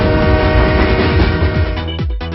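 A train rolls by loudly and close, with a sustained horn blaring over the heavy rumble of the rail cars, then the tone drops sharply near the end.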